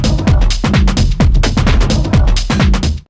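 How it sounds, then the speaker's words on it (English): Drop of a raw house track with new bass wub synths, a loud, punchy loop of thumping kicks and wobbling, pitch-sliding bass bursts in a quick, steady rhythm. "for this second drop, I went a little bit bigger and I have introduced these new bass wubs."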